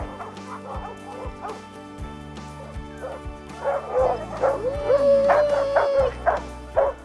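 Sled dogs at a mushing site in Northern Michigan bark and yip excitedly before a run. Several close dogs make repeated sharp barks, high yips and a drawn-out whine, growing louder toward the end, with faint voices beneath.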